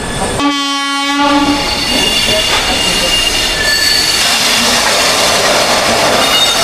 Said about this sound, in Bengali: মধ্যেখান দিয়ে একটা ট্রেন ঢুকছে